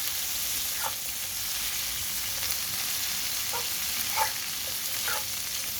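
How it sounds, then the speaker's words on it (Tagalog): Cauliflower frying in a pan, a steady bright sizzle filling the whole clip with a few soft clinks and stirs scattered through, close and even in level, no talking. "Tapos, ilagay na natin ang ating cauliflower."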